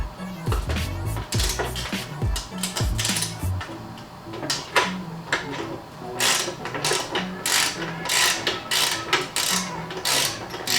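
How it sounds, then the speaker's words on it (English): A socket wrench loosens a bolt inside a Harley Davidson fender, with repeated metallic ratchet clicks, taps and clinks in irregular bursts, close up and fairly loud. "now I'm gonna take my socket, and there's a bolt that's inside of the fender right here"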